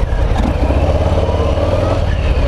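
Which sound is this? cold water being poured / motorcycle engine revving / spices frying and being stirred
motorcycle engine revving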